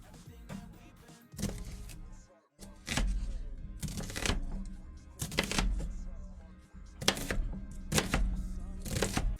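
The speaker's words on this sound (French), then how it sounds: "ensuite, on va couper l'oignon. Un demi-oignon." A knife chops half an onion on a cutting board, with several loud, close blade strikes in uneven bursts separated by short pauses.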